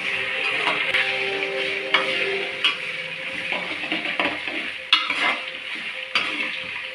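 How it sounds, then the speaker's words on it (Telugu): Curry leaf tempering sizzles in hot oil while tamarind juice boils alongside, giving a steady frying hiss broken by scraping stirs and sharp clinks of a spoon against the pan. "కరివేపాకు తాలింపు అయితే ఇలా వేస్తుంది. ఇటు ఏమొచ్చి చింతపండు రసం అయితే మరుగుతుంది."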